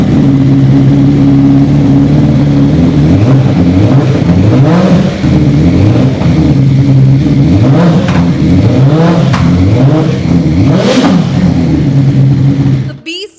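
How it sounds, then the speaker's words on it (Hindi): A loud superbike engine revs repeatedly through a complete aftermarket exhaust system, a throaty sound rising and falling in several sharp bursts over a steady idle, close by. "इसे कंप्लीट एग्जॉस्ट सिस्टम लगा हुआ है। अब साउंड सुना दें आपको एक"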